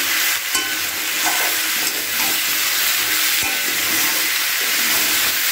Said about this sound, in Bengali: আবার কিছুক্ষণের জন্য এটাকে ভাজতে দিয়ে দিলাম।